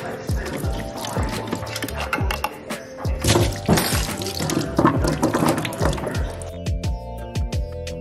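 Cooked hominy is poured into a kitchen sink to drain, a loud close splash of running water with gurgles and drips that tapers off toward the end.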